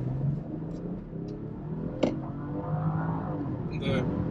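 Engine of a BMW X5 e45 hybrid M, a 2.6-tonne SUV, hums and rises in revs on an off-road drive, a steady interior drone that builds gradually while someone talks over it.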